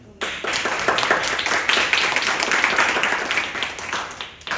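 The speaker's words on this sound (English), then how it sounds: "Give a hand of applause for Andy." A small group at a speech session breaks into applause for a speaker, starting abruptly and holding as brisk, close clapping from a couple dozen people before dropping away.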